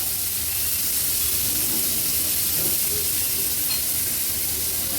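Vegetables steam and sizzle in a pan over a high gas flame, giving a steady, even hiss that stays close and constant throughout, with no voices.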